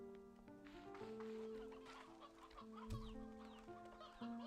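Hens clucking in the Slime Rancher 2 farm game, a busy overlapping stream of cartoonish clucks over steady background game music with no talk.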